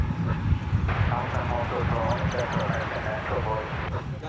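A Boeing 747 airliner on the runway at DFW Airport gives off a steady engine roar and rumble under continuous nearby talking, and the noise swells slightly midway through.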